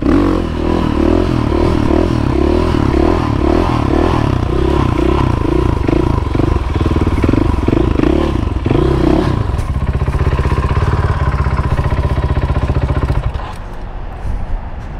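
A motorcycle engine roars loud and close, revving hard with rising and falling pitch as the rider pulls a wheelie in a McDonald's drive-thru, with clattering and scraping mixed in before the engine settles toward idle near the end.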